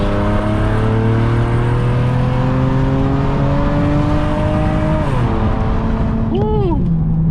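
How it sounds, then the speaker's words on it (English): An Infiniti G37X engine revs and holds a high, throaty drone from its exhaust, then drops off sharply near the end, loud and close. "Let's hear that exhaust."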